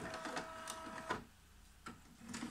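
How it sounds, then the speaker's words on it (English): An HP DeskJet 720C inkjet printer from 1997 prints a test page, its close mechanism whirring and buzzing with sharp clicks of the carriage and paper feed. "And print a test page."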